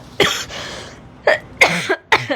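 Loud, close coughs come in four separate bursts after laughter, spaced by short gaps, each a sharp harsh hack.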